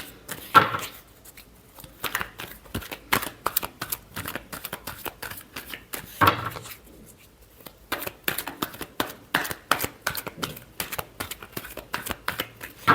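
A deck of tarot cards being shuffled by hand: rapid crisp riffling bursts and flicks in quick irregular runs, broken by short pauses, close and dry with no talking.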